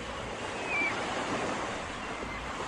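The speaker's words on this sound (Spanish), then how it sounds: "El viento." Steady wind blows along the Malvinas (Falkland Islands) seashore, a continuous breathy roar mixed with the rolling hiss of surf and some microphone buffeting.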